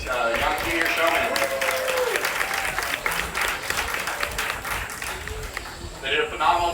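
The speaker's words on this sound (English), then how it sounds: "give a round of applause for all these young junior showmen" A crowd at a junior goat show claps for young showmen after they walk the ring with their goats. The applause is loud and sustained, with a voice speaking over it and a brief lull before it swells again.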